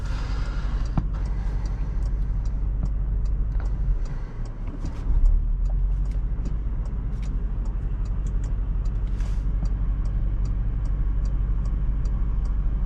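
Windshield wipers on a 2022 Porsche Cayenne GTS Coupe, faint rhythmic ticks and a soft swish heard over the steady low rumble of the car driving on the road.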